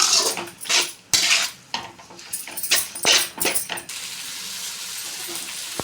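Gobi noodles are stirred and mixed in a pan with metal utensil scrapes and clinks, several brisk strokes followed by a softer steady sizzle, close and fairly loud.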